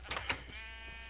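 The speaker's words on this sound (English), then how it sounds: "stupid sheep. I heard them, and I thought it was a creeper sneaking up on me." Sheep in the video game Minecraft bleating, two short wavering bleats close together near the start, fairly clear against a steady low background hum.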